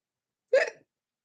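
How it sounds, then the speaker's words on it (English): A single sharp hiccup from a person, close and fairly loud, a short voiced burst lasting about a quarter second amid silence. "Hiccups. I got hiccups."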